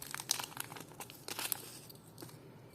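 Crinkling plastic packet holding vintage jewelry opened up close, sharp crackly bursts coming irregularly with brief quiet gaps.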